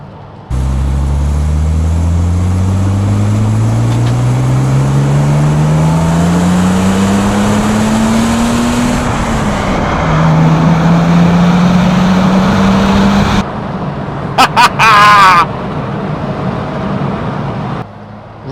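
BMW CSL Batmobile with a 4-speed gearbox driving hard, its engine loud and close, revving up through the gears in rising sweeps with a shift midway, then dropping away near the end.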